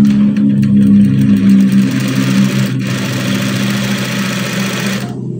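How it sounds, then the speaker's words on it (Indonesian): A sewing machine stitching a sleeve seam on a garment hums loudly and steadily up close, its motor drone continuous before cutting off near the end. "sekiranya sudah pas kita jahit"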